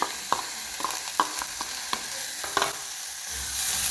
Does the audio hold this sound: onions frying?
yes